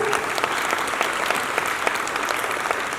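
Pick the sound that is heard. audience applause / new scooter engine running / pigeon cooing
audience applause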